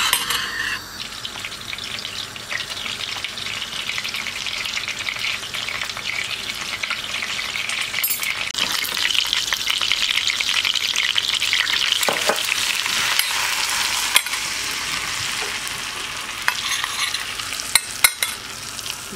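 A spoonful of butter melts and sizzles in a hot pan, a soft continuous frying hiss with occasional crackles and spoon clicks, steady and close for the whole stretch without any voices.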